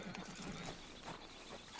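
A horse in Red Dead Online clip-clops with steady, fairly quick hoof beats and gives a whinny, heard fairly faintly over game ambience with no speech.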